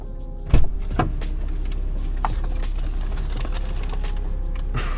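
BMW 340i idling in the early morning, a steady low engine drone with a few clunks and a brief thump near the start, no speech.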